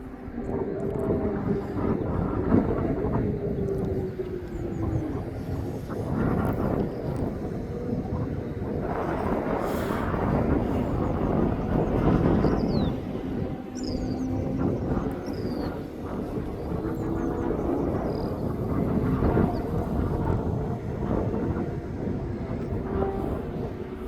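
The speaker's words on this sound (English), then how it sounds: "As he's starting his engines up." Aer Lingus ATR 72-600 turboprop starting its engines after pushback at East Midlands Airport, a steady broadband roar holding throughout with a rising whine, heard at moderate distance amid airport ambience.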